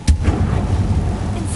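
Incendio fire spell cast in the video game Hogwarts Legacy: a sharp, punchy burst at the start with a deep thump, followed by a short crackling, rumbling tail that fades within about a second.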